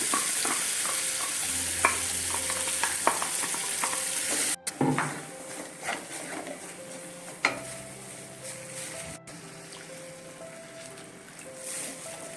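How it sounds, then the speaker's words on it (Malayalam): Ground masala paste for prawn roast sautéing in hot oil, a steady close sizzle with repeated scraping and stirring strokes of a spoon against the pan and a few sharper knocks, with no talking. "നമുക്ക് ഇത് നന്നായിട്ടൊന്ന് എണ്ണ തെളിയുന്നിടം വരെ വഴറ്റണം"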